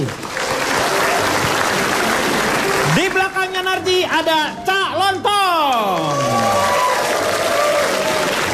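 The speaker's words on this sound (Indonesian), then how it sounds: "tepuk tangan untuk Narji" Studio audience of a television talk show applauds Narji, loud continuous clapping and crowd noise, briefly overlapped midway by an amplified voice speaking.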